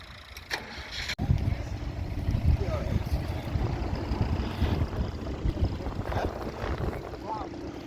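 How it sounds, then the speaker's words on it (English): Strong, brutal wind buffets across an open field during ploughing, a loud, continuous rumble dominating the whole stretch after an opening thump, with a voice briefly audible under it. "Brutal wind."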